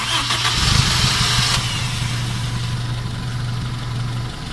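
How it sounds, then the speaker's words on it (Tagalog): A jeep engine cranks briefly by remote start, then catches and settles into a steady, close idle hum that runs for several seconds without any talking. "napapastart ko itong aking makina gamit ng remote control katulad ng nasa video"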